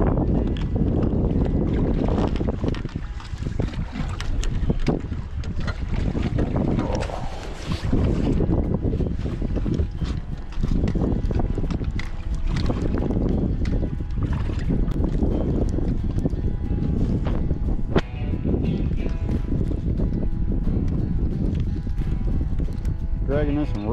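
Loud wind buffets the microphone over continuous churning water and hull noise, a catfishing boat pushing through rough chop with occasional voices underneath.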